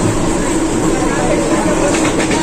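Continuous loud rumble and rattle of a moving Mumbai local train carriage from Churchgate, a dense steady roar with faint voices mixed into the din.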